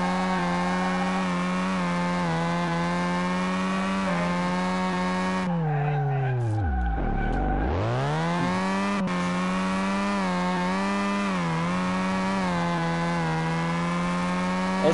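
Race car engine in the Car Mechanic Simulator video game, held at high revs as a loud, continuous buzzing drone that dips sharply and climbs back midway, with no talking.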